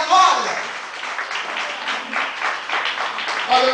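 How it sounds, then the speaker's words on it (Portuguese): A church congregation claps loudly and steadily for several seconds, a dense wash of applause with voices mixed in. "aplaudir a Jesus bem forte, por favor. Os aplausos."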